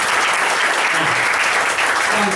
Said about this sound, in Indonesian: Tepuk tangan buat yang berpikir Bapak Ibu.